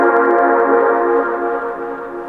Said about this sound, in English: So this Atmos pad is only happening in the middle frequencies.